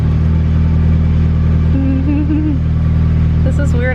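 A Mazda Miata engine idles steadily while the car sits on jack stands with the clutch let out, a constant loud rumble with a short whirring pitch shift and a person's voice briefly heard.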